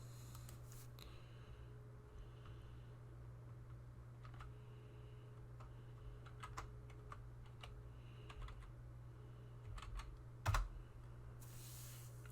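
A computer keyboard is typed on in short, irregular bursts of soft clicks during a gaming stream, faint and close over a low steady hum, with one louder thump near the end.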